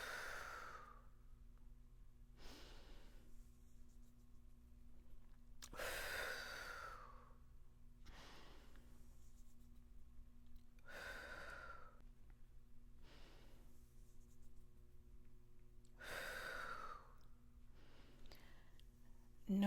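A person breathes through dumbbell Romanian deadlifts, with about seven distinct, audible inhales and exhales spaced a couple of seconds apart, close and steady over a low hum.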